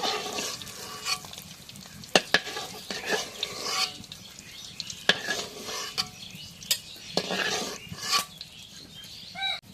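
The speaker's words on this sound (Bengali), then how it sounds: "এখন ডিমটা ভাজা হয়ে গেছে, এখন ডিম দিয়ে তুলে নিই।" Egg fries in a pan while being stirred, with a soft continuous sizzle broken by repeated sharp scrapes and clinks of a utensil against the pan.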